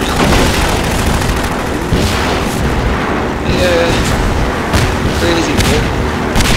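Enemy gunfire in Half-Life 2, loud and continuous with dense bursts and booms, mixed with a vehicle rumble and a player's voice speaking briefly over the shooting.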